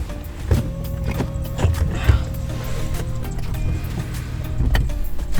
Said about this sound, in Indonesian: tinggal kita narik tuas yang ada di sini. Nanti kursinya akan otomatis ke depan.